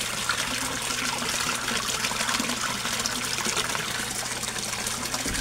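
Steady rushing and splashing of water from an Aquaspeed submersible pump pouring into a koi pond, continuous and fairly loud with no voices, a low hum running underneath.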